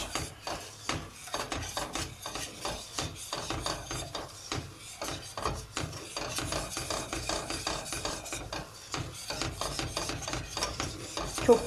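A spoon scrapes and stirs steadily around a pot as a kazandibi mixture is roasted on the stove, with rhythmic, close scraping strokes continuing throughout and no talking.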